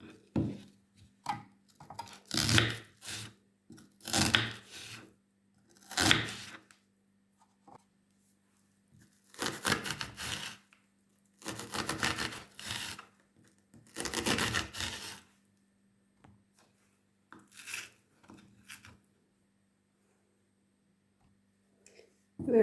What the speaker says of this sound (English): we're gonna cut it on cubes